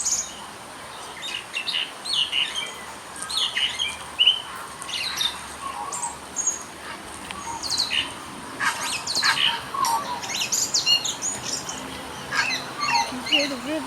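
Tui birds sing in Te Henui Forest in Taranaki, New Zealand, with varied chirps, whistles and clicking calls scattered irregularly over a soft forest background, moderately close and clear.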